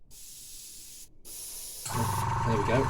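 An airbrush spraying Rebel Aqua Colour paint onto a model of HMS King George V, two short bursts of bright hiss broken by brief pauses, close and fairly loud, then a voice begins speaking over the spray.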